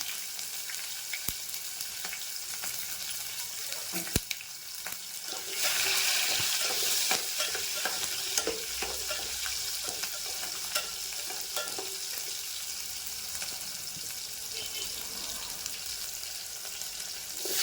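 Onions sizzle and fry steadily in a pan, with occasional scrapes and taps of a stirring utensil, close and continuous, the sizzle swelling louder after a few seconds.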